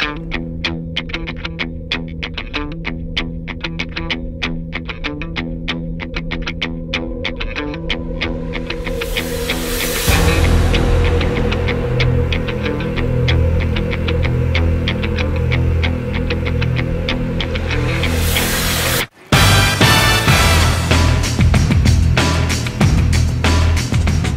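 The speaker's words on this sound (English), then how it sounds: "we're in a 1957 de Havilland Beaver" A 1957 de Havilland Beaver floatplane's radial engine drones loudly and continuously in flight, a throbbing, pulsing roar that swells louder midway, then cuts briefly before returning.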